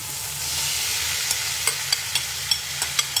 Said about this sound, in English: I'm gonna go ahead and add in my Mediterranean olive mixture